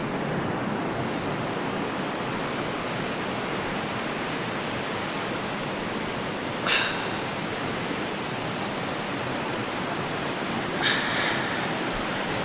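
A Himalayan river rushes in a steady, loud broadband roar that never lets up, with a couple of faint brief clicks near the end and no talking.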